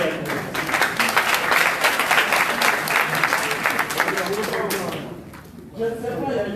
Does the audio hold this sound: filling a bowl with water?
no